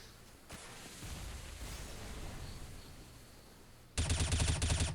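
Automatic gunfire bursts loudly in the final second of a Counter-Strike round on the Cache map, a dense rattling volley breaking out after several seconds of low background ambience and a brief shot early on.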